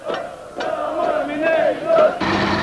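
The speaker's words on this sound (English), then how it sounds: "The miners gathered in a noisy but peaceful crowd outside" A noisy crowd of miners gathers outside the presidential palace in Bucharest, voices shouting and chanting together in a dense, fairly close roar.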